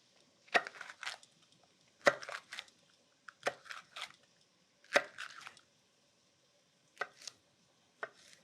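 A kitchen knife slicing and dicing potatoes on a cutting board, sharp close chops in short clustered bursts separated by pauses.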